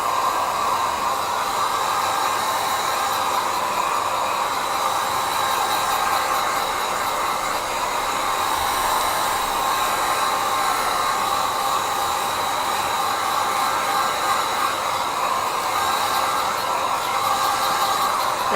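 Hair dryer blowing steadily on the back of a loose watercolor painting of snowy Christmas trees, a continuous close, even airy roar holding level for the whole stretch with no talking.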